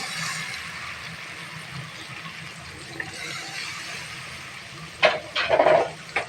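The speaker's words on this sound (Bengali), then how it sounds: "এখন আমি বেগুন আলুটাকে অ্যাড করে দেবো" Eggplant and potato pieces drop into hot spice paste in a pan, giving a short burst of sizzling and stirring near the end after a quiet stretch.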